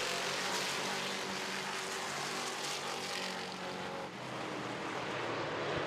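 Race cars at Midvale Speedway roar back up to speed on a green-flag restart, a dense, loud engine wash holding steady throughout from a distance, with no one talking over it.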